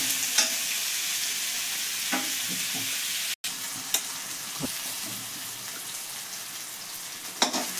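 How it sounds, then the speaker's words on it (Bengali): Onion and tomato sizzling in oil in a pan, a dense steady frying hiss broken by several sharp scrapes and clinks of a stirring spoon, close and continuous with no talking. "দেখুন, ভাজা হয়ে গেছে পেঁয়াজ টমেটো।"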